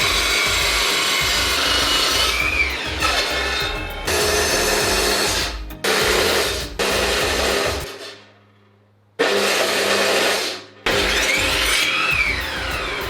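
Power saw cutting wooden boards for a homemade garage car ramp, several loud bursts of cutting with short pauses between them and a quiet gap midway, close by with no talk.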